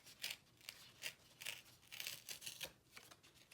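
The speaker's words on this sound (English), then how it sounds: "I'm gonna tear the corner off." Double-sided scrapbooking paper is torn by hand at one corner, making a series of faint, dry rips and crinkles that come in short irregular bursts.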